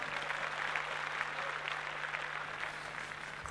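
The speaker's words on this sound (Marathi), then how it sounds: "त्यांच्या स्वागतासाठी टाळ्या वाजवूया खूप" A crowd claps steadily to welcome the Gargi group at a Mangalagaur celebration. The even, dense applause lasts throughout over a low electrical hum.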